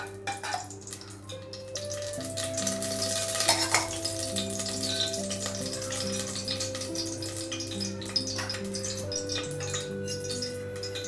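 Ghee sizzles and crackles in a bowl on a lit stove, a steady close frying hiss with a few drips and clinks, while a low tonal hum runs underneath throughout.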